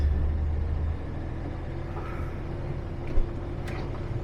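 An old tow truck drives along at moderate speed, its engine giving a steady low rumble with road noise and a brief knock partway through.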